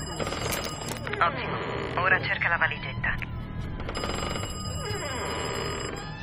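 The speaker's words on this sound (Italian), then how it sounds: "Sto per telefonare a casa di Kraus." In Call of Duty Black Ops Cold War, a telephone rings in repeated bursts with short pauses between them, set against game sounds and some voice activity.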